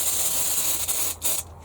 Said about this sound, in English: give them a light spraying